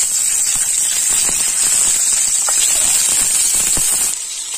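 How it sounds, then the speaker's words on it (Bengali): Eggs hitting well-heated oil in a wok give a loud, continuous hiss and sizzle at close range, holding steady before easing slightly near the end, with no talking. "তেল গরম হয়ে গেছে, ডিম দিয়ে দেব।"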